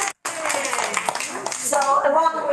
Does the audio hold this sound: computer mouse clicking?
no